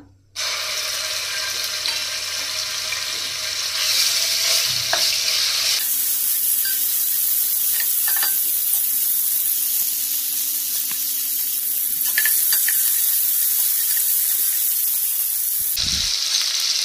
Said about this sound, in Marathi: तितून हांवें ऑयल घातला, तितून हांव जिंजर गार्लीक पेस्ट घालता